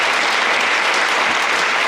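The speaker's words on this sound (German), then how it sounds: "bitte mal einen kleinen Applaus" Dense, steady audience applause at a German talk show about solar energy, loud and continuous for the whole brief moment with no talk over it.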